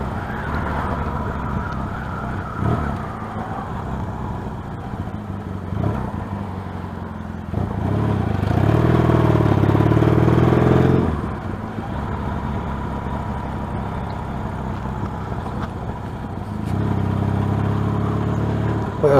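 A Yamaha XS650 motorcycle fitted with a Boyer MK3 electronic ignition ticking over at idle, a low steady engine thrum that swells louder for a few seconds before settling back, close by with no talk.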